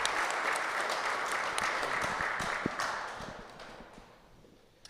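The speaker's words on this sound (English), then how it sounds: "A round of applause for those guys." Applause from the group at a Cold Weather Bats player draft, a dense, even wash of clapping from a small crowd that holds steady, then fades out near the end.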